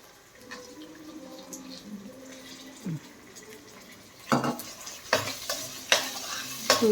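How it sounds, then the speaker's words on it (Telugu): Soaked chana dal being stirred and fried with ginger in a pan, a soft sizzle under scraping spoon strokes that turns into several louder, sharper clattering stirs toward the end. "కొంచెం వేయించేసుకున్నాం."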